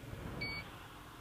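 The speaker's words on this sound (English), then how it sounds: "And that was the LiDAR beeping." A LiDAR speed gun emits one brief, thin electronic beep near the middle of the moment, faint over low background rumble.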